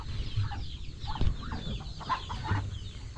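A duck ready to lay eggs gives soft, scattered clucking calls close by on a farm, short low grunts spaced irregularly over faint background noise.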